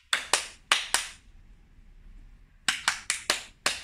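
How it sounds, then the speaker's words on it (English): A Pathfinder clap from a club group at a sign language honor lecture: two short bursts of sharp, rhythmic claps in unison, four then five, separated by a quiet pause. "We will give you a Pathfinder clap."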